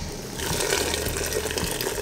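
Water being drained from a pot of boiled lemon basil leaves, a steady close rush and splash of pouring water lasting the whole moment.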